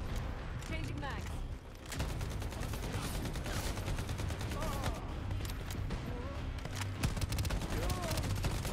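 Rapid gunfire from a shooter video game crackles in dense bursts of overlapping shots, loud and continuous, with only a brief lull near the start.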